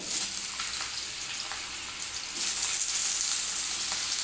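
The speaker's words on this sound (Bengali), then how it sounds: "আর আলুটাও সঙ্গে এখানে একসাথে ভেজে নেব" Raw green banana and potato pieces fry together in a pan, a steady close sizzle with faint stirring clicks that grows louder and fuller about halfway through, with no talk.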